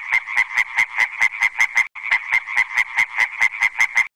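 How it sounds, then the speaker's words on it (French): A frog croaks in a fast, steady series of about twenty loud, evenly spaced pulses, briefly interrupted midway, close and alone without any talk. "Je suis une petite grenouille verte."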